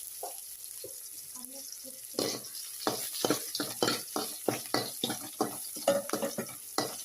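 Garlic frying and being stirred in a pan while making rasam; a quiet start gives way to repeated bursts of scraping and sizzling in an uneven rhythm, with someone talking softly under the cooking noise.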